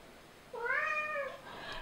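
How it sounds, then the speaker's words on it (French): A pet cat that keeps meowing to go outside gives one clear, drawn-out meow indoors, fairly faint against quiet room tone. "il miaule tout le temps parce qu'il veut sortir."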